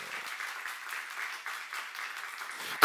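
Audience applause during a church seminar: steady, fairly quiet clapping from a crowd that continues throughout, ending with a sudden loud burst at the close.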